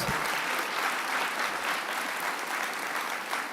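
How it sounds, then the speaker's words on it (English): Audience applause at a journalists' association opening ceremony, a sustained wash of many hands clapping, even and full, with no voices rising above it. "Yes, you can applause right there."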